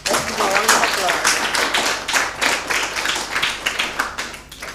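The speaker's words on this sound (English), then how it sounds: "Let's give a round of applause." Audience applause at a school spelling bee competition for a contestant: steady, dense clapping from a crowd that carries through the whole stretch, with some voices mixed in.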